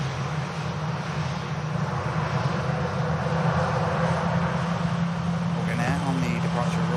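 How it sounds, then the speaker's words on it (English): An Aer Lingus airliner on its departure roll at Manchester Airport gives a steady, broad engine roar with a low hum held throughout, heard from a distance over ambient noise. "Hogan Air on the departure roll. Should be airborne any moment."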